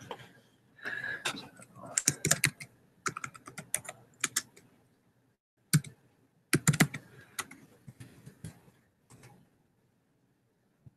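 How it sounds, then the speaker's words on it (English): Computer keyboard typing in bursts of quick clicks and clacks, close and fairly soft, with short pauses between runs of keystrokes and a faint quiet background. "I typed in hello friends"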